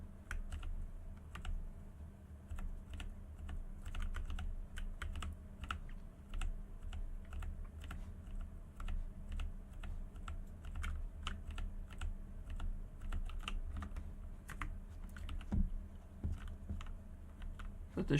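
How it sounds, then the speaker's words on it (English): Rapid mouse clicks and key taps while building a camp in Fallout 76, steady and close throughout, a busy irregular patter with no talking over it. "So you guys have to listen to all the mouse clicking."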